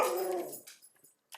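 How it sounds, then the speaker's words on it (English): A dog barks once loudly and close, followed by a few quieter yips and whimpers, then a final short bark, all without any talking. "dog's barking"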